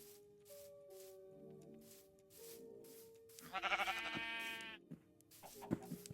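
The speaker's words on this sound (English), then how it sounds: "Looks like a sheep." A Minecraft sheep gives a couple of wavering bleats in the middle of the clip, clear over quiet background game sounds and soft music tones.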